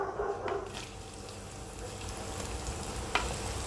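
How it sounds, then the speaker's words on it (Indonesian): Thinly sliced tempeh frying in hot oil, a dense continuous sizzle with crackling pops, close and steady throughout. "Sekarang saya akan menggoreng tempe yang sudah saya potong-potong tipis tadi ya"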